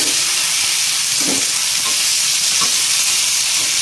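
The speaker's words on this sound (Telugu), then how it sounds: "ఎర్రగడ్డ, టమాటాలు వేసుకున్నామండి. బాగా వేయించుకున్నాం." Onions and tomatoes fry in a pan for dal with a loud, dense, steady sizzle and hiss, with a few low scraping stirs underneath and no voices.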